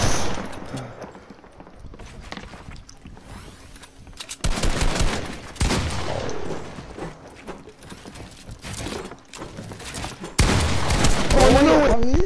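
Shotgun blasts and other gunfire in a Fortnite match, loud bursts and rapid volleys layered over game effects, with a player talking.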